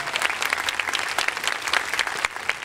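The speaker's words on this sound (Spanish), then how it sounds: "La mejor forma de reconocerlo es con el aplauso de este maravilloso público." A theater audience in Alvarado, Veracruz applauds a Mexican folk dance company with dense, steady clapping from many hands, close and continuous for a few seconds, with no voices.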